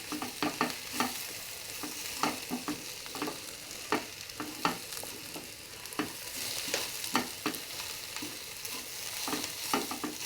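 Chili powder frying in a pan while being stirred, a quiet, close sizzle under a rhythmic series of sharp spoon scrapes and taps against the pan, repeated steadily, with no talking.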